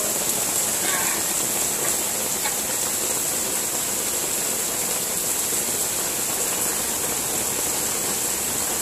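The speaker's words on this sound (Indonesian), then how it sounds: "Udah gede banget, cepet banget hujannya ya." Heavy rain pouring down in central Jakarta, a dense, steady hiss of downpour splashing on surfaces, continuous and loud throughout with a faint voice briefly in the mix.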